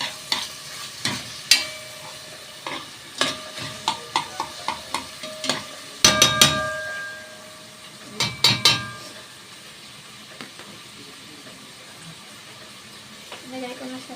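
Green beans go into frying ground pork for adobo and are stirred, with sharp repeated scraping strokes over a steady sizzle, loud and close, with a burst of clattering mid-way.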